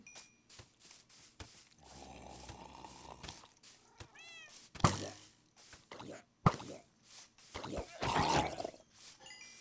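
Cats meowing in the Minecraft video game, several short mewing calls scattered among plops, game effects and other clatter, fairly close and moderately loud.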